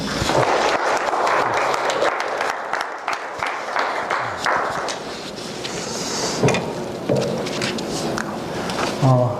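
A church congregation applauds to welcome a visiting pastor, a steady clatter of many hands with a few knocks and shifting sounds, somewhat distant.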